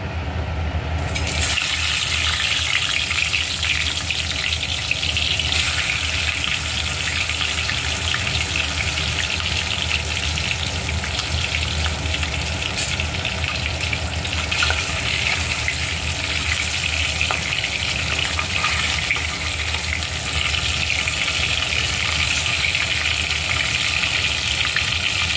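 Catla fish heads fry in hot oil, giving a loud, steady, close sizzle and crackle that carries on without a break from start to finish.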